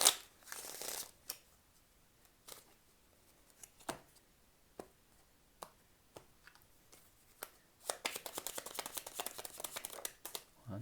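Tarot cards being shuffled by hand, a run of soft papery slaps and riffles at close range with brief pauses between bursts, building to a dense flurry near the end.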